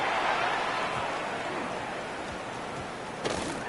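Heavy rain pours down steadily over an American football game as a punt is kicked, a dense, constant wash of noise throughout with a brief sharper burst near the end.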